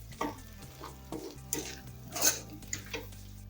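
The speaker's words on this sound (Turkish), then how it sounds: "Şimdi böyle de birazcık kavuruyoruz." Orzo and chicken sautéing in butter in a pot, with a soft sizzle under repeated clinks and scrapes of a spoon against the pan, several sharp metallic knocks standing out, close up and with no talking.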